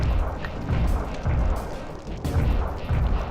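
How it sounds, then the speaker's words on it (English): Explosion in the video game Sly Cooper and the Thievius Raccoonus: loud, rolling booms and crashing bursts that pulse several times in a row, heavy and close, with no talking. "watch this awesome explosion"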